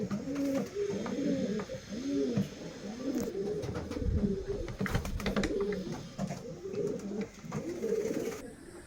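Girebaaz pigeons, a Dhoom Regdar male among them, coo in a steady run of soft repeated rounded calls, close and fairly loud, alone with no talk.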